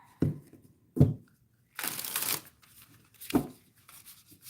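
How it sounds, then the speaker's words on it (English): Tarot cards are shuffled in separate bursts: a couple of soft taps, a longer riffling rush, then another flick, fairly close and quiet with no talking. "This deck shuffles beautifully."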